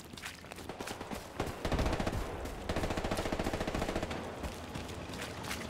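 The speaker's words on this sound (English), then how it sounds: "I hear what I think might be an MG3." MG3 machine gun fire in the WW2 shooter Hell Let Loose, rapid sustained bursts rattling in a fast even rhythm, fairly loud amid distant battle noise, with a sharp single report before the longer volleys.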